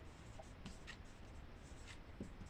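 A pen writing out a math answer on paper, faint scratchy strokes in short bursts against a quiet room.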